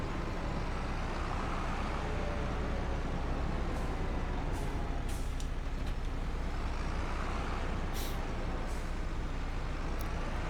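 A tractor maneuvering a header trailer in Farming Simulator 25: a constant loud engine drone runs throughout, with a few brief hissy bursts like air brakes or hitch noises.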